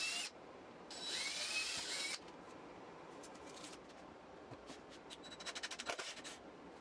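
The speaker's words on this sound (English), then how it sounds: "then on the inside I countersunk them" A power drill countersinks bolt holes on the inside of a wooden mid-century modern nightstand drawer front, with a loud whirring burst early on, then quieter scraping and a run of rapid clicks near the end.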